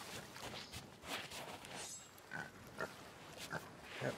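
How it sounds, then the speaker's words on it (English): Pigs on an island in the video game Sea of Thieves give several faint, scattered grunts and oinks over quiet ambience, with soft footsteps in between. "I can hear more pigs."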